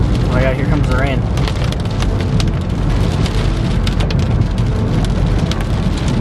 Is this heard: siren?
no